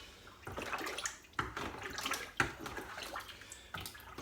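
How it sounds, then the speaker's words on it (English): A homemade gooseberry, elderflower and honeysuckle wine mixture is stirred in a container, giving soft liquid swishes and sloshes in several uneven strokes with sharper knocks between them, fairly quiet and close. "So I'm going to give it a quick stir."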